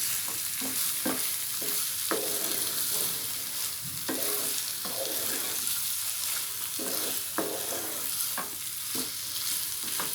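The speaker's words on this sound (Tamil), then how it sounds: "இந்த கத்திரிக்காயும் வெந்து ஃப்ரை ஆகிடுச்சு, அந்த மசாலாவும் ஃப்ரை ஆகிடுச்சு" Stuffed brinjal with masala frying in a pan, a steady close sizzle broken by repeated scraping stirs and clinks of the spatula throughout, with no talking.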